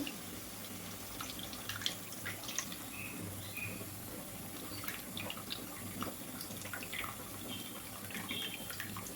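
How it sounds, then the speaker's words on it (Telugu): Strained tamarind water is poured into a pan for a Tamil-style curry, a continuous trickling and splashing with small drips and clinks throughout, close by and moderately quiet, without speech. "చింతపండు వాటర్ మొత్తం అయితే పోస్తున్నానండి"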